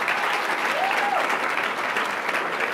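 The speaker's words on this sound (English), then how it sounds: "Applauding in her absence, Petra Marie Beryl Edwards." Audience applause at the 2019 Black Excellence Awards ceremony, a steady, dense clapping from a crowd that holds at an even level throughout.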